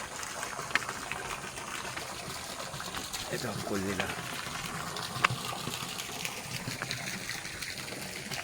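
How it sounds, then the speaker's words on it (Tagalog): Cold running water flows from a bamboo spout into an outdoor pool, a steady trickling splash under someone speaking briefly nearby. "Running water talaga."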